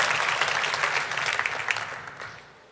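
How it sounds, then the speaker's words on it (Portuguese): Church congregation applauding together, a sustained burst of clapping that fades out toward the end. "Aplaude o Senhor por isso, se você crê nisso."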